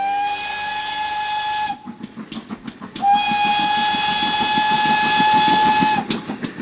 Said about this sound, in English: So when a steam train chugs by